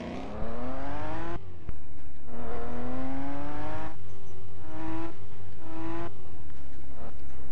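Engine of a car in the Roblox video game, a synthetic tone revving up in repeated rising sweeps through several gear shifts, loud and close with no talking.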